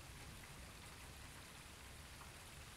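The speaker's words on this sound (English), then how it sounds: "It started raining. Oh, it's really coming down out there." Rain falling steadily on a tent, a dense even patter heard from inside, soft and continuous with no voices.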